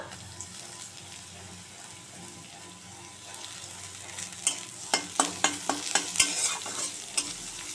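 Garlic frying with chopped onion in hot oil in a wok, a steady sizzle with a run of sharp spatula clicks and scrapes toward the end, close and fairly loud.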